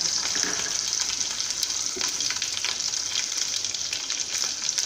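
Curry leaves and green chillies sizzle in hot oil for Gujarati khaman dhokla tempering, a steady close crackling hiss with small pops throughout and no voices.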